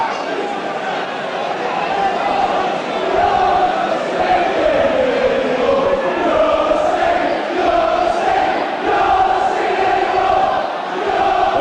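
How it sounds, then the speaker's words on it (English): A football crowd at a Gravesend match rumbles as Gravesend line up a free kick, a steady broad roar of many voices with shouts rising and falling throughout, loud and continuous. "it certainly brought the crowd to life as Gravesend take this free kick once again"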